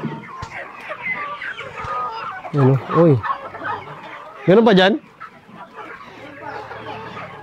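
A flock of farm chickens crowded together for feed clucks and murmurs continuously, with a couple of louder squawks standing out and someone talking over them.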